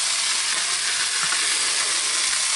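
Onion and a spoonful of flour frying together in a pan, a steady dense sizzle with soft hiss and faint stirring, close and continuous with no talk.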